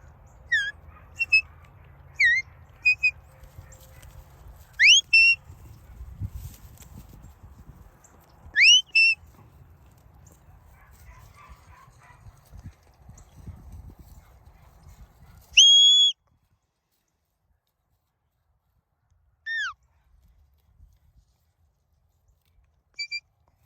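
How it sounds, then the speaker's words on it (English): Sharp, high shepherd's whistles to a border collie repeat in short bursts, some rising and some falling, over faint rustling and movement, then more sparse whistles against near silence. "I'm gonna give Ty a whistle"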